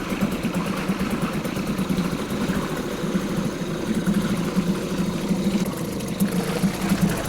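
Mercury 2.5 hp two-stroke outboard engine idling close by after starting, with a rapid, buzzy, slightly uneven putter that holds steady at low revs and no talking.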